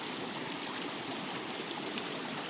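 A river flows past a sandy beach at Cache Creek, Colorado, making a steady, full rush of water that continues unbroken and evenly loud throughout.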